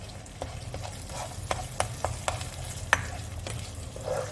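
Spoon scraping and stirring through a thick sizzling blended masala in a pan for Rajasthani-style taro, a steady low frying hiss with intermittent sharp scrapes and taps.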